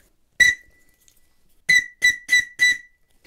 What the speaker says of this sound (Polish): W takim gwizdku cannelloni